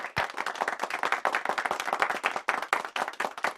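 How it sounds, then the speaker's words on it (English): Audience applause at a university ceremony naming the Meyerhoff Professor in Thoracic Oncology: dense, steady clapping from many hands, fairly close, with no talk over it. "More applause is due that."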